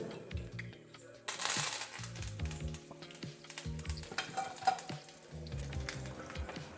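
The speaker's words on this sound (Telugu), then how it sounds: "వెంటనే 2 మిరపకాయలు, ఎండుమిర్చి 2 చింపుకొని వేసుకుందాం." Dried red chillies and curry leaves frying in hot oil as a tempering for peanut chutney, a close sizzle with crackles and a few stirring clinks against the pan.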